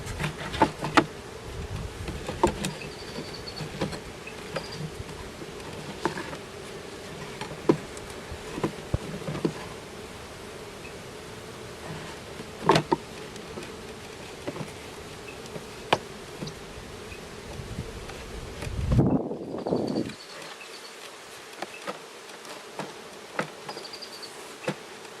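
Honey bees buzz steadily around an open hive during an inspection, a close continuous hum with scattered brief clicks and handling noises, ending in a short louder rustle followed by near silence.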